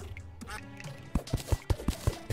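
A duck in the video game Terraria gives a quick run of short, evenly spaced quacks, moderately clear against quiet game sounds.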